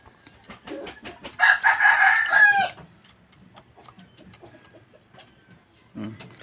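A chicken that has been eating poorly gives a loud crow-like call at close range, followed by faint pecks and quiet clucks, with a brief louder cluck near the end.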